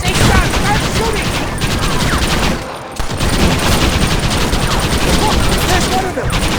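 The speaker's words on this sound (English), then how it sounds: "I say, John, start shooting!" Gunfire in the Western video game Red Dead Redemption, a loud, dense barrage of overlapping shots that rattles almost without pause amid battle noise, with shouting voices mixed in.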